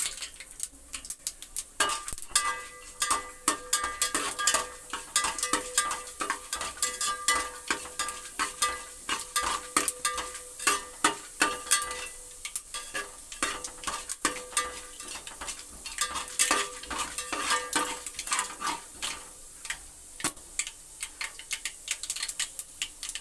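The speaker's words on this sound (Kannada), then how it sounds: "ಇದಕ್ಕೆ ಈರುಳ್ಳಿ ಕರ್ಬೇವಿನ ಸೊಪ್ಪು ಒಣಮೆಣಸಿನ್ಕಾಯಿ ಒಗ್ಗರಣೆಗೆ" Tempering of onion, curry leaves and dried red chillies sizzling in a pan, a dense crackle of rapid pops and ticks with a metallic ring from stirring, steady and close throughout, no voices.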